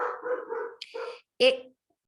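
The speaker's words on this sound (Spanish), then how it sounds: "mi perro me está haciendo la vida imposible, tocaron el timbre y ladre, espero que no los moleste." A dog barks a few times after a doorbell rings, sharp close yaps broken by short gaps and ending in one louder bark.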